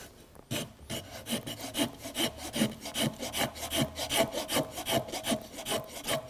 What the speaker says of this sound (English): So this is just a paint scraper.